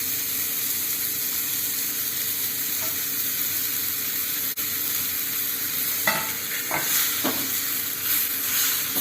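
Curry leaves sizzle in a hot pan during tri-colour rice cooking, a steady faint hiss with a few light crackles and stirring scrapes toward the end.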